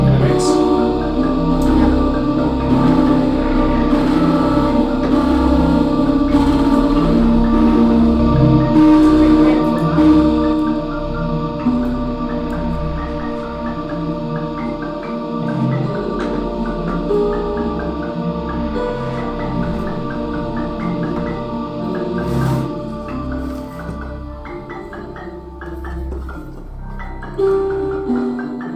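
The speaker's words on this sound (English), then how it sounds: "the sound of the termites is playing in the mix" Generated sound from a simulation of termites, a dense continuous sustained wash of layered tones and shifting textures that holds steady for half a minute, with no talk over it.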